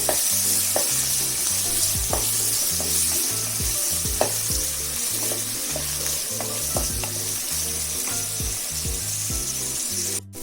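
Green chillies frying in a pan over a medium flame, a steady loud sizzle with occasional stirring clinks and scrapes, over a repeating background music loop, no talking.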